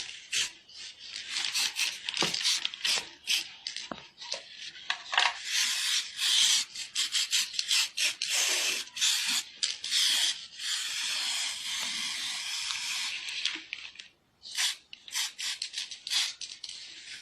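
A spray paint can hisses onto a plastic jerrycan in long steady bursts, pausing briefly between passes, close and fairly loud with no talking.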